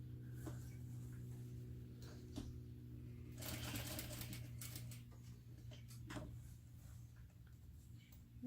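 Sewing machine stitching a zipper seam on a baby garment, giving a soft mechanical run with rapid ticking bursts that start and stop over a low steady hum, fairly faint and close.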